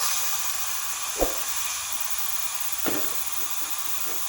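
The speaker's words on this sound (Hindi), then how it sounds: "अब यहाँ से मैं स्टीम इसकी निकाल दूंगी।" Steam hisses steadily out of a pressure cooker on a low flame, a continuous broadband rush with two brief soft knocks partway through.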